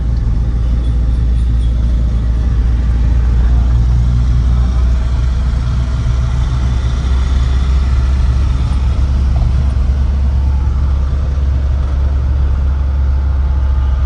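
A loaded truck drives along an open road, its engine a steady, close, low rumble that holds unbroken throughout with no voices.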